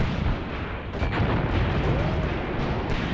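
Grenade blasts hammering a Panzer III tank in a World War II North Africa video game, a dense continuous barrage of booming, rumbling explosions with no pauses, loud and close throughout.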